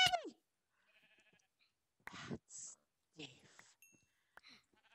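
Sheep bleating in a video game, a short wavering bleat at the start followed by scattered clicks and game effects, fairly quiet.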